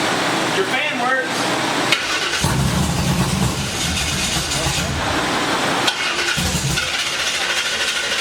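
A supercharged small-block Ford Mustang engine converted to EFI and running on methanol cranks and sputters loudly up close, with a broad rough roar that surges and dips as if starving for fuel, while people talk over it.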